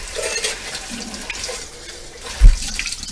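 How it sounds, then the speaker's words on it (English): Purified water poured from a cup into a pot of soup, a soft splashing stream of liquid that swells briefly into a louder plop near the end. "You add a whole cup of water, purified water"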